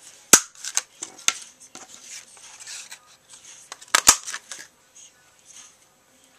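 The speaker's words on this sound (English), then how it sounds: "I just take a piece of scrap paper and I cut out 4 of these flowers" Scissors snipping flower shapes out of scrap paper for handmade paper roses, a string of sharp close clicks and crisp cuts with rustling paper between, uneven in rhythm with a few louder snaps.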